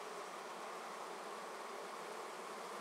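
Honeybees hum at the entrance of a flowerpot swarm bait hive, a soft, continuous buzz with no other sounds.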